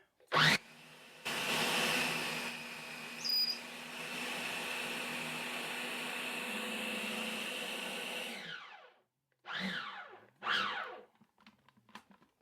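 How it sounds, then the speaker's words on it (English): A food processor blends smoked avocado guacamole with a loud, steady motor whine that runs for about seven seconds, then stops, followed by a few short pulses. "All right, food processor. Now we're going to turn it on."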